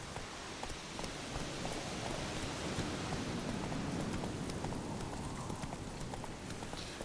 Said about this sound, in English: It was clearly someone's horse.